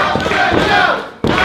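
A loud wrestling-show crowd roars and shouts continuously, with a brief sudden drop near the end before the noise surges back at full volume.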